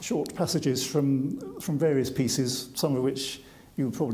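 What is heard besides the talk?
No distinct noise like a dog, phone or traffic.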